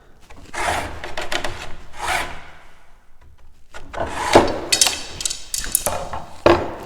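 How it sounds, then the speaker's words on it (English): A hacksaw cuts through a wooden dowel in short, scratchy strokes that come in uneven bursts with brief pauses, close and moderately loud, with a few sharp knocks from the wood. "we're going to put the hacksaw right in this little groove, and we're going to cut that dowel"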